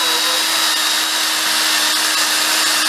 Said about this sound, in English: using the drill to power, to spin the valve in the cylinder head